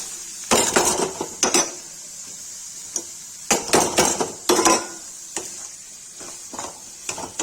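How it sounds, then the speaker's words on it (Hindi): Mutton liver and onions being stirred in a pot for Kashmiri-style kaleji: a spoon scrapes and clinks against the metal in irregular bursts, close and fairly loud, with a soft sizzle underneath and quiet gaps between strokes. "चला देंगे अच्छे से।"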